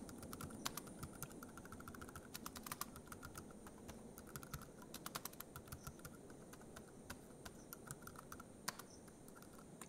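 Steady, quiet typing on a computer keyboard while an address is entered, with a continuous run of light key clicks and occasional sharper taps, and no talking.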